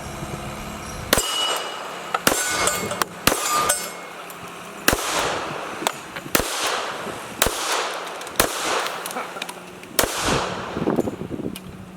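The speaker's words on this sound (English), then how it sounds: "If you've never shot a 45 ACP or had a lot of experience with that, they're a lot of fun to shoot." A Sig P220 pistol fires .45 ACP rounds in about ten sharp, loud, separate shots at irregular intervals, each with a short ringing tail and no talking between them.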